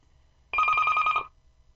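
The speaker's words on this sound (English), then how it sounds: "Great time for the phone to ring." A telephone rings once in a quiet room, a single bright electronic trill lasting under a second, close and fairly loud against faint background hum.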